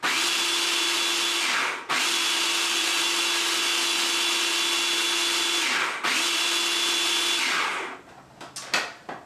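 A food processor grinds almonds into almond flour with a loud, steady motor whine. It cuts out briefly twice between pulses, then stops, leaving rattling clatter.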